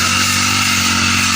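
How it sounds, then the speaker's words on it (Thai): A small two-stroke engine runs steadily nearby with a buzzing, high-pitched whine, like a grass trimmer at constant throttle. "นี่เสียงพนักงานตัดหญ้าของเราอยู่ตรงนี้เองนะคะ"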